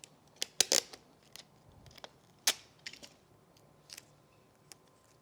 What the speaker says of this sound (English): And you can cut off the extra tape so it doesn't come out in your shadows.